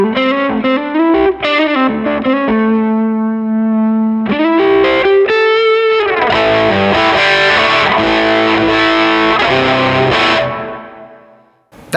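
An electric guitar plays through an overdrive pedal set for low gain, with picked notes and chords carrying a mild, warm grit and ringing sustain before fading out, loud and with no talk.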